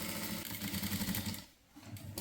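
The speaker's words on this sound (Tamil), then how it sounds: "அதுக்கு மேலே இன்னொரு தையல் போடுறோம். டபுள் தையல் போடும்போது நல்லா ஸ்ட்ராங்காக இருக்கும்" A sewing machine runs a continuous double line of stitching on blouse fabric, a steady rhythmic whir that dips briefly near the end before starting up again, close and fairly quiet.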